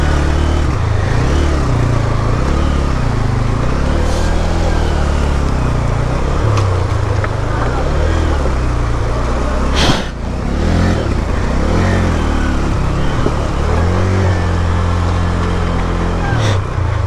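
A motorcycle engine labors and revs steadily as the bike is pulled free on a cold, wet mountain road toward Khunjerab Pass, a continuous loud drone with rising and falling pitch and a brief dip midway.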